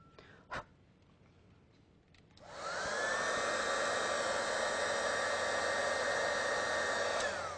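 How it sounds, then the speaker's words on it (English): Heat tool blowing hot air to melt embossing powder on a bangle, starting after a quiet moment and running as a loud, steady whirring roar to the end, with no talking. "Put some embossing powder over them, which gets stuck to the dots. And again, just heat it."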